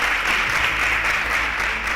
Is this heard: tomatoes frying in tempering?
no